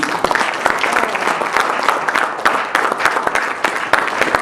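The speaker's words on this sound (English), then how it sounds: "Can you give a round of applause, please?" A crowd applauds steadily, dense overlapping claps sustained at a loud, even level throughout.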